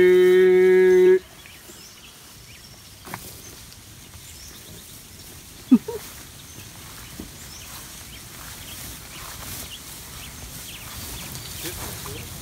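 Grass-fed cattle, a herd of finishers and yearlings, low in a quiet pasture with faint shuffling and scattered lowing, a brief tonal burst at the start and a sharp knock midway.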